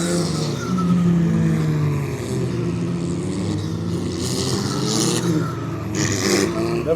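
A race car at the Nogaro circuit revs steadily while warming its tyres before a practice start, a continuous loud engine drone with rising and falling pitch and occasional tyre noise.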